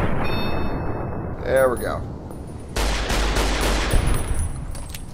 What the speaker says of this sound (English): Now I'm gonna just shoot at them.